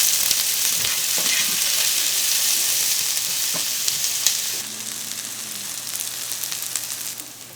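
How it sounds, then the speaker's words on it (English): Onions browning in olive oil in a pan for a zucchini lasagna give a steady, close frying sizzle, with occasional stirring scrapes and a softer hiss in the last few seconds. "first we're going to start browning our onions"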